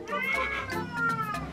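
A house cat meows repeatedly in close, drawn-out cries, loud and near, with a brief caterwauling edge and no talk over it.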